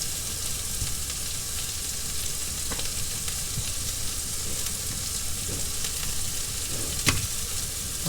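Food sizzles steadily in a frying pan in a tiny home kitchen, a constant hiss with a few faint clinks and scrapes of stirring, no talking.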